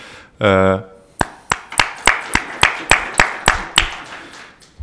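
Applause for a panel at an economics event on sovereign ratings: after a short spoken phrase, a run of about a dozen sharp, evenly spaced claps rings out clearly, loud and close.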